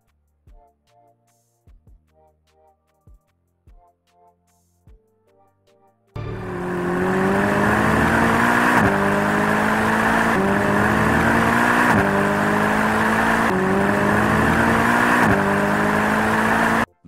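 A Mercedes SLS AMG with a naturally aspirated 6.2-litre V8 making 622 horsepower roars loud and close, climbing through several gear changes under hard acceleration after a quieter opening of scattered tones.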